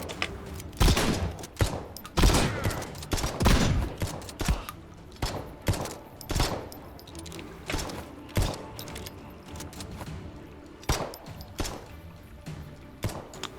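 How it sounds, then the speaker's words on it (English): Video game gunshots during a speedrun: a rapid string of sharp, close shots fired in quick irregular succession, dense at first and then spacing out into single cracks with brief gaps. "You have to bear with me while I do some really annoyingly accurate shooting"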